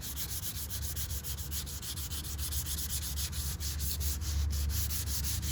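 Sandpaper rubs by hand over Camaro bodywork in a continuous, steady scratchy hiss with rhythmic strokes, close and even in loudness throughout.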